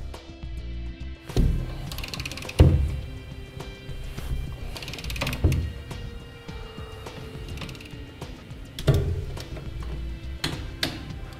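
Bolts on the bed protectors and headache rack of a 2015 Chevrolet Silverado are tightened with a wrench, giving close ratcheting clicks. Several sharper metallic clunks mark the strokes over the course of the work.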